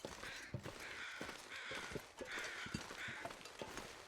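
Crow cawing in The Long Dark survival game at night in Bleak Inlet: a few harsh, repeated caws drift over a steady wind-like background, with faint thumping steps underneath.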